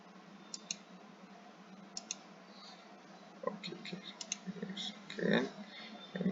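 Computer mouse clicks while working in CAD software, sparse light clicks that grow denser later, faint under quiet talk.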